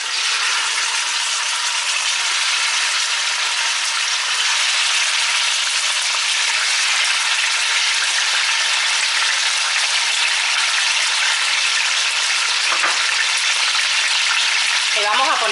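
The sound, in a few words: chicken thighs frying in hot oil in a pot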